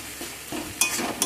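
Spices and tomato with a little salt frying and being stirred in a pan for a broccoli curry, a low sizzle broken by two sharp spatula scrapes against the pan, close up with no talking.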